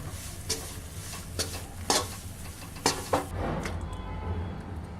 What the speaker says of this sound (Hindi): इसे धीमी आंच पर ही सेकें और हल्के हाथ से इसे इस तरह से लगातार चलाते रहें।